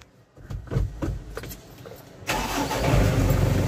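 Metallic jingling and handling noises, then the diesel engine of a Japan-surplus truck with a 4M51 engine cranks and catches at once, settling into a loud, steady rumbling idle close by.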